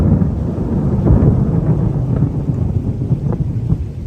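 Loud, deep thunder rumbles continuously through steady heavy rain, close and enveloping, with no voices.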